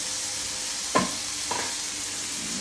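Ground sesame tilkut roasting in a hot pan gives a steady, even sizzle throughout, broken by two short scraping stirs near the start and middle.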